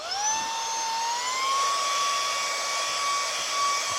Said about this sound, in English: You see it's sucking all this up.